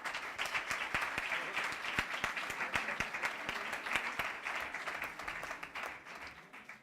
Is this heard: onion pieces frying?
no